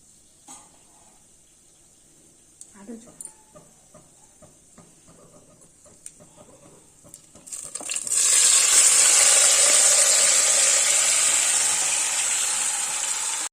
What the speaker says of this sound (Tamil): இதை லைட்டாக வதக்கிட்டு இந்த சிக்கன் மசாலாவை அப்படியே உளுத்தி போட்டுற வேண்டியதான்